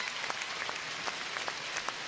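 Steady, even-textured applause from a quiet crowd at a karate kata competition, the clapping staying soft and distant without any voices rising above it.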